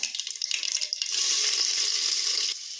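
Onion dropped into hot oil with mustard seeds and cumin, giving a loud, steady hiss and crackle that begins with scattered pops and then swells into a continuous sizzle for about two seconds before easing slightly.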